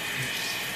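Shower water runs steadily as a pet cat is bathed, a brief, moderately faint hiss of spraying water with no other sounds.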